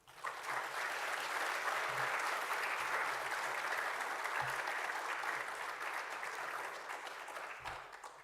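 Sustained applause from a lecture audience after an inaugural education lecture, a dense, even wash of clapping that holds steady for several seconds before easing slightly near the end, with no talk over it.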